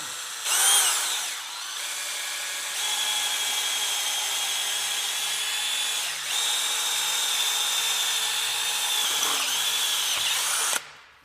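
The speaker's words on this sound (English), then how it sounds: "Hopefully not completely destroy the drill bit." A power drill whines steadily for about ten seconds while drilling into a Porsche rear bumper, its pitch dipping and rising slightly under load, then stops abruptly.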